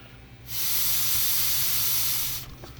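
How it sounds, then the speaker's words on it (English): Air hisses steadily out of a small hole poked in a plastic bottle under blown pressure, a loud, close, continuous rush lasting about two seconds before stopping. "I poked that hole in there, so now when I blow into the bottle, when I try and add pressure, watch what happens to this hole right here"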